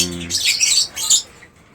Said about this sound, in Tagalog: Kaya kailangan talaga focus talaga focus talaga sa pag-aalaga ng ibon.